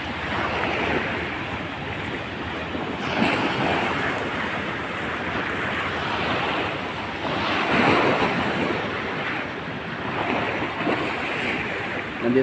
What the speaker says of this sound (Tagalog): Ayan, nasalpukan guys ang alon